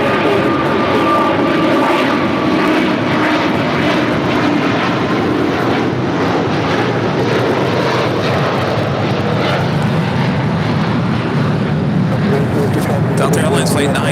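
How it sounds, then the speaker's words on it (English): A Delta Air Lines Boeing 737-800 arriving at LAX from Nashville gives a loud, steady jet roar that stays constant throughout. "Delta Airlines Flight 922 coming in from Nashville, Tennessee and the 737-800"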